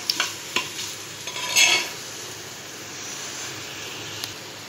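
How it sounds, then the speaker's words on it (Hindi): Goat or mutton pieces for gosht tahari being stir-fried in a pot: a steady low sizzle with a few sharp utensil scrapes and clinks near the start, then a softer continuous hiss. "अब गोश्त डाल के भूनेंगे थोड़ी देर।"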